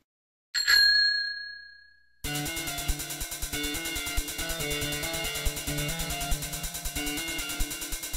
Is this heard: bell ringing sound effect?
yes